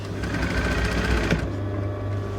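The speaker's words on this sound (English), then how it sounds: "Centre back seam of my dress stitched up." A sewing machine runs steadily, stitching the centre back seam of a dress with a continuous close mechanical whir and rapid needle rhythm, loud and alone with no talking.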